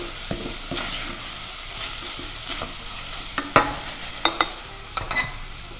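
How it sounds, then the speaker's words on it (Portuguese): Ground beef sizzles steadily in a hot pan while a utensil stirs and scrapes it, with several sharp clicks and knocks against the pan toward the end. "carne moída e fritando bem."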